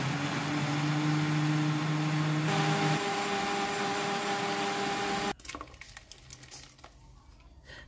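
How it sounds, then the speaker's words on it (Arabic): A kitchen grinder whirs loudly and steadily as it grinds msemen dough mixed with cold water, its pitch shifting mid-run before the motor cuts off, leaving quieter clattering and handling noises. "وغادي نطحن مزيان."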